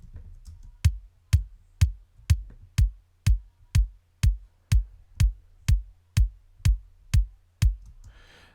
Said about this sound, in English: These are the kicks right here.